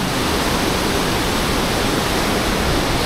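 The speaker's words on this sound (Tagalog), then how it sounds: "first time natin makapasok sa ganito na rumaragasa yung tubig" Floodwater roars steadily through Wawa Dam, a loud, unbroken wash of rushing water that fills the whole space with no voices and no break in the flow.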